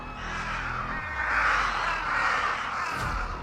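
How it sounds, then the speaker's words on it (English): Several crows caw repeatedly in harsh, overlapping calls at moderate distance, a raucous cluster of cries over a faint background hiss. "20 of these crows flew in from nowhere,"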